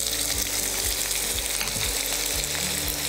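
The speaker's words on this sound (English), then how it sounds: "Fry the onions on medium heat and not on high heat because you want them to brown evenly." Chopped onions frying in oil over medium heat with whole spices for a restaurant-style mushroom masala, giving a steady, close sizzle with periodic low scraping stirs throughout and no talking.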